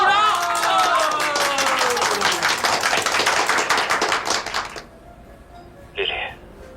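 Classmates at a gathering break into loud, dense clapping that holds for several seconds and then stops abruptly, leaving a quiet room where a voice speaks briefly.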